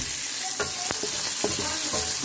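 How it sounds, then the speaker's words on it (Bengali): Onion and green chilli frying in a pan with salt, a constant close sizzle broken by several spatula scrapes and knocks against the pan. "পেঁয়াজ আর কাঁচামরিচ আমি একটু ভেজে নিব"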